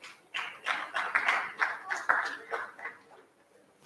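Brief round of applause from an audience at a housing agreement signing event in Nigeria, a short burst of distinct claps close by and moderately loud, tapering off after a few seconds.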